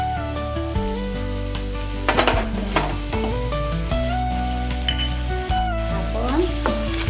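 Finely chopped tomato and ivy gourd sauté in a pan with asafoetida. A soft sizzle and a few scraping stirs sit under louder melodic background music.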